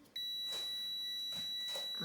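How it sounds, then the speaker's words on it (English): A kitchen oven timer beeps in a home kitchen while cookies bake, giving a steady, high electronic tone with a few short pulses, fairly quiet and alone. "Okay, our timer is done."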